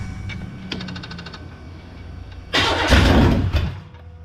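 An engine fitted with a two-barrel carburetor cranks with a few rapid clicks, then catches and starts with a loud, close burst before it settles down.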